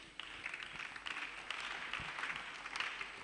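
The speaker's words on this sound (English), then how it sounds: "another round of applause for you" Audience applause at a diocese's 30th anniversary celebration, a steady wash of clapping from a crowd in a hall, fairly even throughout with no voices over it.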